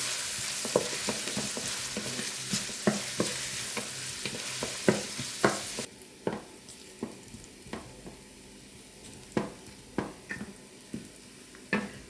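Two chopped onions frying in a pot, a bright hissing sizzle that drops sharply midway, punctuated by repeated scraping stirs of a spoon against the pot.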